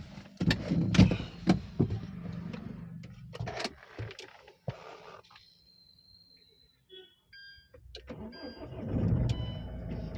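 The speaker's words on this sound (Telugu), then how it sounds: "కార్ అయితే స్టార్ట్ చేశాను చూడండి" A 2017 Mahindra XUV500 W8 cranks and fires up close by, its engine sound then settling and fading before a low rumble rises again near the end. Faint voices are heard at times.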